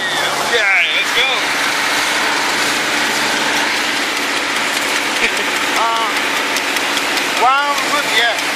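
Engine of a rice harvesting machine in a Japanese paddy runs steadily and close throughout, a continuous mechanical drone with clanking machinery, and brief voices come through over it.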